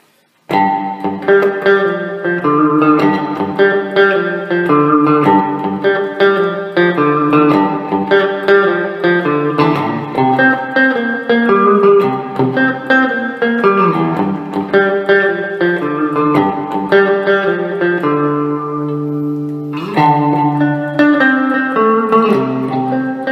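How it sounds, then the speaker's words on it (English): A Les Paul with P90 pickups through a Quilter Micropro Mach 2 amp plays chords and melodic lines drenched in heavy, boomy digital reverb, notes ringing and blurring into each other, with a brief pause before resuming. "Okay, there you go, a nice boomy reverb sound."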